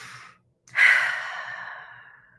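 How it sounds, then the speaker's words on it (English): A single deep breath: a brief quiet inhale, a pause, then a long audible exhale that starts strong and gradually fades, close and alone without talk. "So take one more breath"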